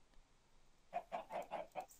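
A Minecraft chicken gives a quick run of five clucks, clear and close, after a near-silent start with no talking.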